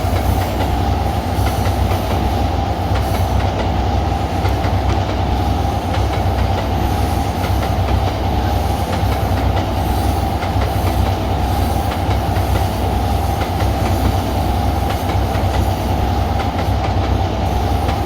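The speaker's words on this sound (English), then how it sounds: "But you can see the train making its way." A train on a Maine Central Railroad line in the Trainz video game rolls along the rails with a loud, steady rumble and continuous rhythmic wheel clatter, with no talking throughout.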